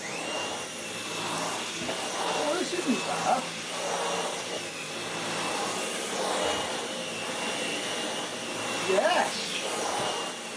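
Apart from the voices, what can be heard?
cordless stick vacuum cleaner running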